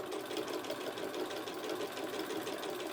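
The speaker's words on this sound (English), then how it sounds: "I'm going to sew along to that first corner, just taking it nice and easy." A sewing machine stitches binding onto a patchwork quilt, running steadily at an easy pace with a soft, even mechanical whir and rapid needle patter, faint and alone.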